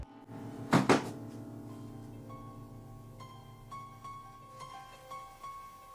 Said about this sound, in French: Les choses inquiétantes ici commencent toujours par un fantôme qui claque la porte.